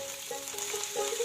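Foraged backyard weed greens frying in a pan with onion, garlic and chili, a steady close sizzle with light stirring scrapes, no talk.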